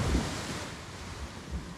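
Sea waves washing onto a beach in Goa, a steady broadband wash of surf with low rumbling swells, fairly close and continuous, with no voices.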